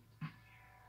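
A pet cat named Mocha gives a single short, soft meow indoors over a faint steady background hum.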